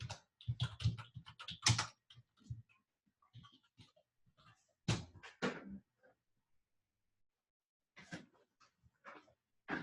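Someone types on a computer keyboard nearby in uneven clusters of clicky keystrokes, with short pauses between bursts and a longer stretch of near silence before a final few taps.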